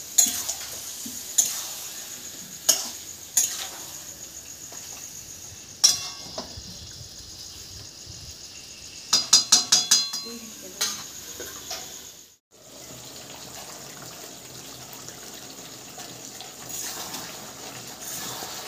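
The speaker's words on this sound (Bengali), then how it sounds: "একটু আমি নাড়া দিয়ে দিলাম" Chicken curry being stirred in a pan, with scattered scraping and clinking utensil knocks over a low steady sizzle, a brief cluster of quick taps midway, then a continuous simmering hiss.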